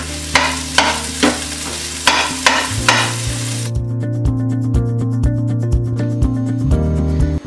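Prawns are stirred in a hot pan with a spatula, giving rhythmic scraping strokes over a steady frying sizzle that continues alone, close and loud, with no talking.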